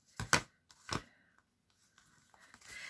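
Scissors cut through paper while a fairy journal is being made. Two crisp, close snips come in quick succession, followed by faint paper rustling.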